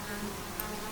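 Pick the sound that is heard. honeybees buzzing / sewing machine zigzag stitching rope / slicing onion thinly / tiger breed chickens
honeybees buzzing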